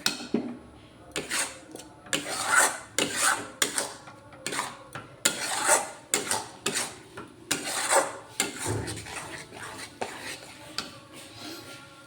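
A spatula scrapes and knocks rhythmically against a pan while amla candy mixture is stirred with cornflour, close repeated strokes with short pauses between them.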